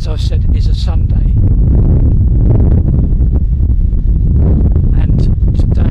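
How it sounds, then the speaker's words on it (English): Strong outdoor wind buffets the microphone in Blackpool, a loud, continuous low roar with gusty surges, while a voice talks over it throughout. "today there's that terrible wind again"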